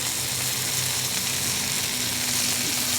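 Chicken pieces for chicken Marsala drop into a hot pan by a griddle, giving a steady, loud, close sizzle and frying hiss that holds the whole time with no voices.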